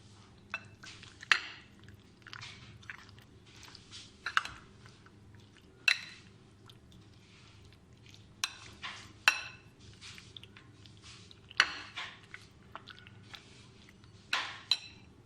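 Mutton karahi being mixed in a pot with a utensil at home, giving irregular soft scrapes, wet squishes and occasional clinks against the metal over a low steady hum, close and fairly quiet.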